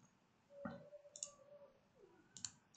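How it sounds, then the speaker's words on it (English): A few faint, sharp computer mouse clicks are spaced out in a quiet room while a process is saved in data-mining software. "we click this folder, and then we save it"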